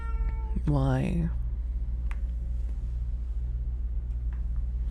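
A cat meows in a drawn-out, wavering call near the start, loud and close, followed by quiet room tone with faint low hum.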